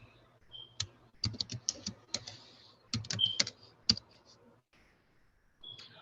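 Typing on a computer keyboard: close, quiet bursts of sharp key clicks in uneven rhythm with brief pauses, over a faint background hum.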